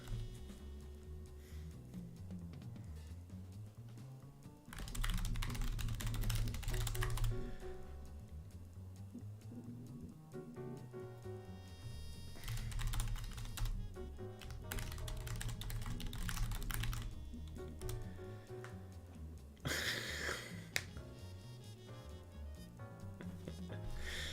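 Computer keyboard typing in bursts of rapid clicks, close and fairly quiet, over background music from a Skullgirls fighting game session, with pauses between runs of keystrokes.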